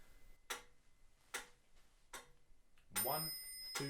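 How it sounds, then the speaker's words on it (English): Evenly spaced metronome clicks keeping a steady beat for a trumpet lesson, four sharp ticks about 0.8 seconds apart, followed by a brief brassy trumpet note at the end. "each of these clicks on the metronome is worth 1 beat"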